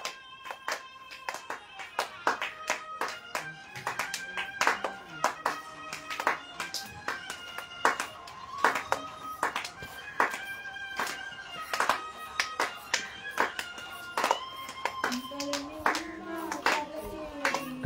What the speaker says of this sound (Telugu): గట్టిగా కొట్టాలి చప్పట్లో సంతోషంగా.